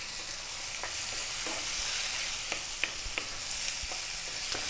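A sea bass fillet and 800 grams of prawns cook in a pan for a fisherman's pie, giving a steady soft sizzle with a few sharp scrapes and taps as the pan is stirred, no voices.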